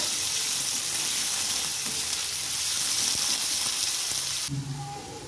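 Potato pieces fry in oil with a bright, steady hissing sizzle that holds strong for several seconds before dropping off abruptly near the end, close up with no voices.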